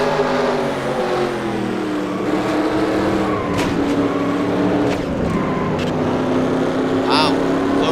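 Several race cars in an onboard view of a NASCAR-style sim race at Indianapolis, engines droning loudly and steadily with shifting revs, under commentary talk.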